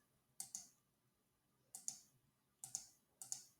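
Quiet computer mouse clicks while using the paint bucket tool in Photoshop, coming in four close double-click pairs spaced about a second apart, crisp and near with no talk.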